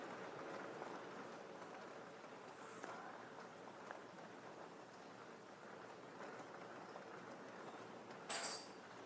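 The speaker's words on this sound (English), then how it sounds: "it just all of a sudden started raining for no apparent reason" Rain falls in a faint, steady patter, with a couple of brief higher clinks standing out now and then.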